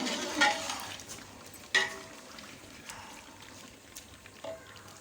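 Red chili, turmeric, dried fenugreek leaves and salt are stirred into potato chicken in a pan, with faint scraping and clinking of a spoon over a quiet background.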